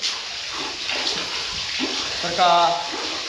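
Water gushes steadily into a drip irrigation pipe nearby, a continuous rushing flow with a gurgle toward the end, while a voice speaks over it.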